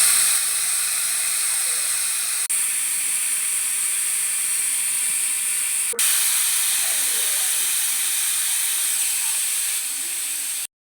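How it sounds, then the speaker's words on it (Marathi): A pressure cooker letting off a steady, loud steam hiss while cooking wheat lapsi, a continuous close whistle-like rush held for several seconds with a couple of brief clicks, cutting off abruptly at the end. "आता कुकरच्या 3 शिट्ट्या झालेल्या आहेत"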